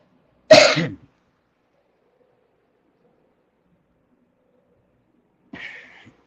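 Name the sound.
coughing from throat tickle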